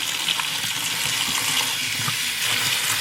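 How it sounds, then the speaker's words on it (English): Water pours steadily from a tap onto a strainer holding cantaloupe seeds, a close, continuous hissing splash with no pauses. "You run the water over it"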